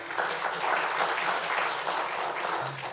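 Applause at a police department awards ceremony, steady dense clapping from an indoor audience filling the whole stretch at even loudness.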